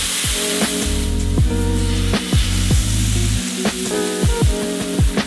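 Jerk chicken searing on a hot griddle, a loud close sizzle with hissing spatter and occasional scraping bursts, running steadily with no talking.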